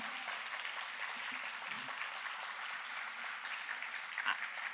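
Audience at a Bharatanatyam arangetram giving a steady wash of applause, a dense patter of many hands clapping at moderate, even volume from start to finish.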